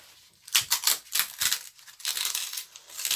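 Recycled cake-box cardboard is torn by hand in a series of close, loud ripping and crackling bursts that come in uneven pulls over a few seconds, with no talking.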